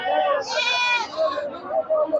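A native Bengal goat, the local desi breed, lets out one strong quavering bleat at a livestock market, near and clear, with people talking before and after it.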